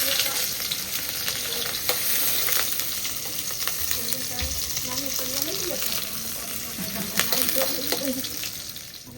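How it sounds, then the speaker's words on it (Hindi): Dal gets a tadka as spices fry in hot oil in a pan, giving a steady close crackling sizzle with scattered pops and clinks, while a faint voice murmurs in the background. "उसके बाद हम फिर दाल में तड़का लगाएंगे"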